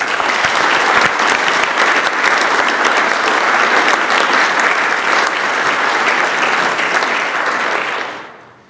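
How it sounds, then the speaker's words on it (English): Sustained applause from an audience at a school district progress report event, honoring district groups; steady, dense clapping for about eight seconds before fading quickly at the end. "join me in giving all those groups a nice round of applause"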